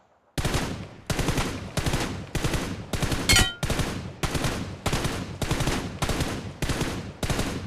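Mobile shooter video game gunfire during peek-and-fire drills, with about ten evenly spaced short bursts of rapid shots, loud and close, separated by brief gaps.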